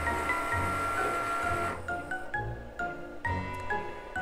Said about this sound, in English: I am ready to press the Cricut button on my Cricut